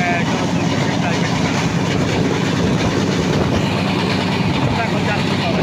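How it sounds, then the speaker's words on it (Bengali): A passenger train running on the tracks on the Dhaka to Narail line, a loud, steady rumble with clickety-clack from the carriages, heard from close on board, with people talking under it. "একদিকে ট্রেন চলছে আর একদিকে যানবাহন চলছে"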